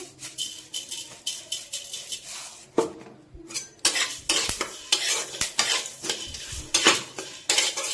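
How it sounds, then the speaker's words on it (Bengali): Coriander, cumin and dried chilli dry-roasting in a pan, with steady scraping and clinking of a metal spatula stirring against the pan in rhythmic strokes, plus faint crackle, close up and no talking. "ধনে জিরে শুকনো লঙ্কা ভালো করে ভেজে নেব।"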